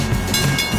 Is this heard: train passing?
yes